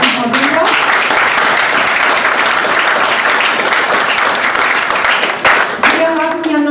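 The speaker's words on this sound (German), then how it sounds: "nochmal ganz herzlichen Dank und Applaus an Herrn Falkenberg und Frau Winter" Loud, dense applause from an audience at an art exhibition opening, sustained almost alone for several seconds before tapering slightly near the end, with a voice briefly surfacing over the clapping.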